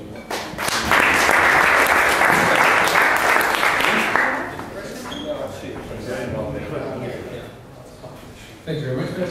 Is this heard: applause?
yes